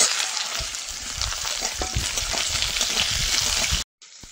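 Pieces of mango fry in oil with salt and turmeric, a loud steady sizzle and crackle from a close pan, with occasional stirring, ending abruptly.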